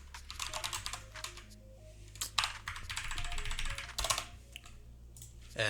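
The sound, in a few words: typing on a computer keyboard, pressing F2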